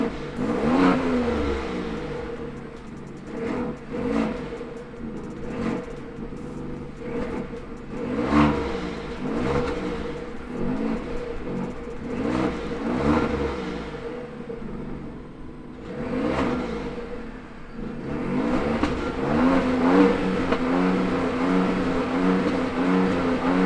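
Pickup truck engines revving in turn, a naturally aspirated V8 and twin-turbo V6s: a 2022 Toyota Tundra TRD Sport, Ford F-150 Tremor and Chevy Silverado ZR2, with repeated rising and falling revs, moderately near, without talk.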